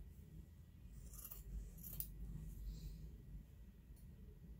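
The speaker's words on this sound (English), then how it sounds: "And then I'll just cut this off." Scissors snip through fabric for a quilted bookmark, with a few soft close cuts and rustles in a quiet room.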